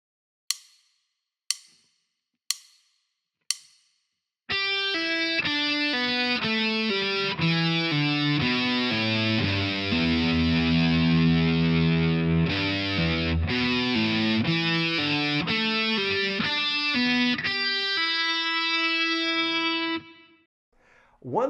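Four sharp plucked guitar notes, then a sustained distorted electric guitar line with slow, smooth note changes as strings are pulled off one by one.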